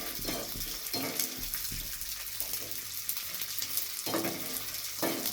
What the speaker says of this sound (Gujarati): હું આને તેલમાં તળું છું